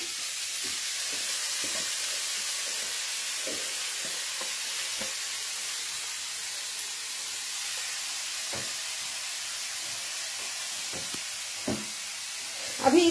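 Grated carrots fry and sizzle in a pan with a steady hiss, punctuated by scraping stirs from a spoon, and no talking.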